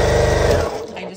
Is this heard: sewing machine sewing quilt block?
yes